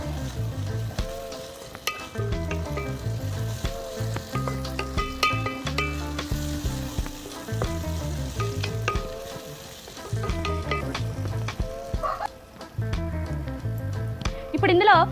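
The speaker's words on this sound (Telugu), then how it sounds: "అల్లం పచ్చివాసన పోయేంత వరకు ఫ్రై చేసుకోవాలి" Ginger-garlic paste fries with onions and turmeric in a pan for a dried goat meat curry, a steady close sizzle broken by repeated stirring scrapes while someone talks over it.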